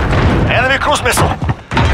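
A cruise missile strike in Call of Duty: Modern Warfare multiplayer, a heavy booming blast with deep rumble, overlapped by an announcer voice speaking over it.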